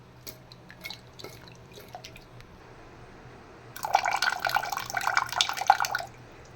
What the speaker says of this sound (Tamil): கொஞ்சோண்டு புளி இதையும் கரைச்சி இதில் ஊற்றிடலாம்.